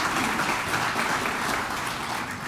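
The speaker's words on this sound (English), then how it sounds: "Let's give Michael a round of applause." A lunch crowd at an awards ceremony applauds an award winner, a dense, steady wash of many hands clapping at close range with no gaps and no voices on top.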